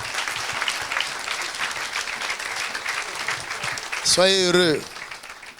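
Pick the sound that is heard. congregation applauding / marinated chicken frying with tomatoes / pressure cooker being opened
congregation applauding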